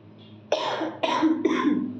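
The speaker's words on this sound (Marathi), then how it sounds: "खूप खोकला पण लागलेला आहे" Three harsh coughs in quick succession, close and fairly loud, with short pauses between them.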